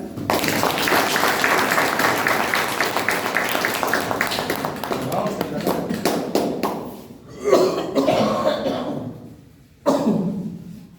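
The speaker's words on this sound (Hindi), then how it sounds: "एक बार जो है आप अपने लिए ताली बजा दें" Audience at an event in Supaul clapping, a long, dense burst of applause that fades, then shorter rounds of clapping follow, with coughs mixed in.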